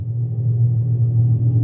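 The Dodge Charger Daytona EV playing its artificial exhaust sound, a loud, close, deep steady rumble with no talk over it.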